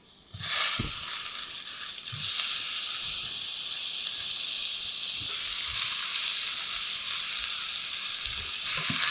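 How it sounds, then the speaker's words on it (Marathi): Peas, green beans, potato and cauliflower drop into hot oil tempering for veg pulao, starting with a sudden loud sizzle that settles into a continuous bright hiss with a few soft stirring knocks. "आता या भाज्या या फोडणीत घालूयात"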